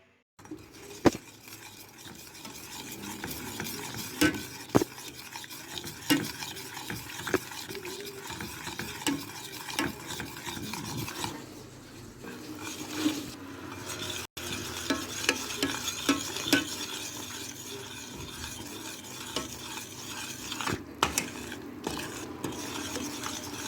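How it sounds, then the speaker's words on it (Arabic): A spoon steadily stirs and scrapes a sliced almond mixture in a pan as it cooks toward golden, producing continuous soft scraping and faint sizzling with occasional sharper clicks against the pan. "نحركو مزيان حتى الخليط غادي يعقد لينا وغيولي لنا اللون الذهبي"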